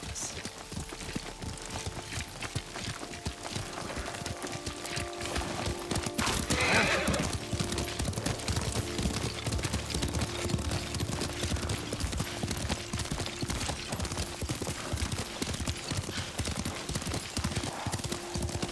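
Hooves clip-clop steadily at a gallop with a horse whinnying partway through, set against continuous outdoor ambience and occasional low speech in the video game Ghost of Tsushima.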